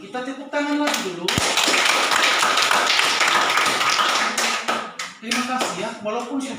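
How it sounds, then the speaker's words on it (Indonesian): Schoolchildren in a remote village classroom clap together loudly in a dense, steady burst lasting several seconds, with voices calling out around it before and after. "Anak-anak, kita tepuk tangan lagi dulu."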